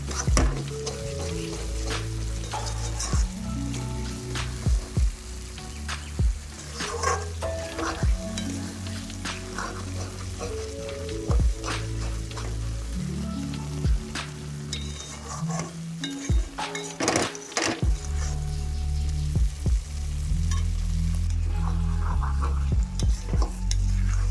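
Eggs are gently stirred in a pan of curry with capsicum on a low gas flame: continuous soft sizzling broken by repeated scraping strokes and occasional clinks of the spoon.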